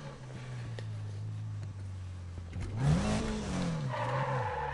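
A racing video game car engine hums steadily, then revs up and down with a rising whine and a brief squeal of tires.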